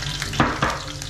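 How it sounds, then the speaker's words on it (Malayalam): Green chillies sizzle in a pan of hot oil for Kerala-style fish molly. Two quick stirring scrapes break through the steady frying hiss in a brief burst with no voices. "പച്ചമുളക് ഇട്ട് ഇളക്കി കൊടുക്കാം."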